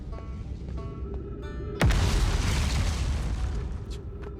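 A meteor strikes in the Outer Wilds video game, landing as one sudden loud boom that rolls into a long, broad rumble and slowly fades, over a quiet ambient game backdrop.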